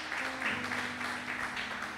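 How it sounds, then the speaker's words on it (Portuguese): A church congregation applauding during a sermon, a dense steady wash of clapping from many hands sustained throughout, with a low sustained tone underneath. "Quem pode aplaudir o Senhor?"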